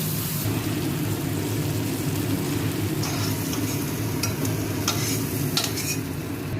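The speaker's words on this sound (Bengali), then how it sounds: "চিংড়ি মাছটা আমি ভাজার জন্য বসিয়ে দিয়েছি" Prawns fry in a pan with a steady, dense sizzle that carries evenly throughout, with a few sharper crackles and spits near the end.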